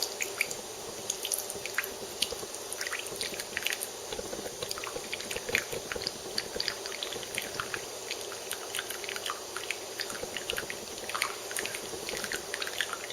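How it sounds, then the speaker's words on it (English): Grease from a meatloaf draining into a bowl, a quiet continuous run of fine drips and wet patter over the whole stretch, close by with no talking. "very carefully lift it, drain the grease into a bowl"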